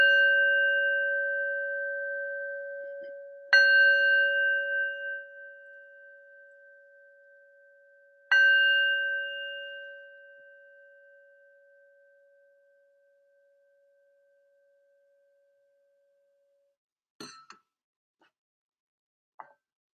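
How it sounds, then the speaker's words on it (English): A meditation bell is struck three times at the end of a practice session. Each clear, pure ring hangs and slowly fades into silence, followed near the end by a few faint, brief knocks. "And I'll end with the bell."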